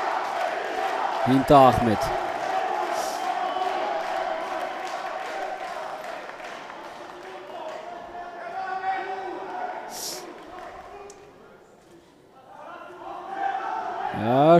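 A boxing crowd at the Vienna Boxing Championship roars and shouts through the sixth round of Simsek vs Ahmadi, a broad arena din under fast commentary, dipping midway and surging again at the end.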